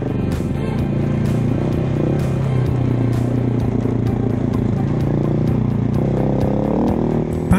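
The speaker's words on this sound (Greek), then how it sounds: "Πάνω στην άσφαλτο πάλι κυλάω κατηφορικά, αφήνοντας τη μηχανή να πάρει ρυθμό από μόνη της." A Husqvarna 701 Enduro motorcycle rolls downhill on asphalt, its single-cylinder engine holding a steady, continuous loud drone close by, with wind rush and faint clatter layered over it and no voices.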